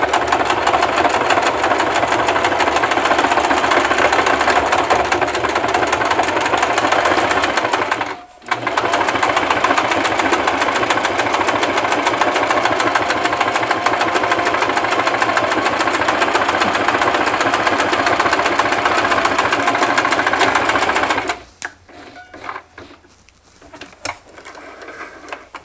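A Singer 3232 sewing machine runs a zigzag stitch in one long, steady, loud mechanical whir, broken by a brief pause partway through, then stopping near the end into quieter handling sounds.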